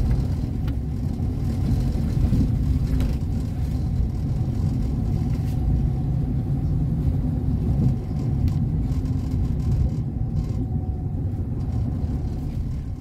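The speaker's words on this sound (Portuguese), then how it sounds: "Agora colocando o carro na garagem, né?" A car creeping slowly into a home garage gives a steady low engine rumble and road noise throughout, close and constant with no speech.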